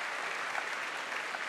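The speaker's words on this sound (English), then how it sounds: "Give yourselves a round of applause." A studio audience at a televised Q&A panel show on the budget, surplus and debt claps together in a steady, even wash of applause for a brief moment.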